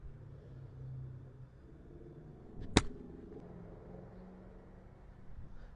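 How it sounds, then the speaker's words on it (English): A Ford Mustang engine rumbles nearby as a low steady drone throughout, with a single sharp click or snap partway through and no talking. "Sounded like a Mustang."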